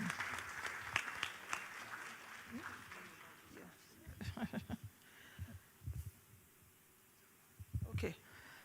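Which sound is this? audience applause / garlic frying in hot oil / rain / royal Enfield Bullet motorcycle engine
audience applause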